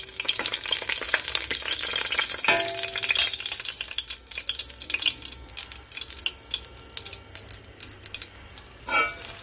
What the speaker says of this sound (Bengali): শুকনা মরিচগুলো দিয়ে দিলাম তেলের উপরে।